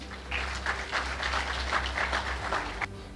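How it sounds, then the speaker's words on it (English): Audience at a symposium claps in a sustained, moderately loud patter of many hands, fairly even throughout with a low hum beneath. "can we clap a little more?"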